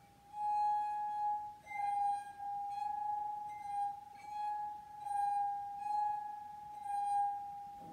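A drinking glass sings as a wet fingertip circles its rim during a primary-school music lesson, giving a loud, steady, pure ringing tone that swells and fades in slow, regular pulses throughout.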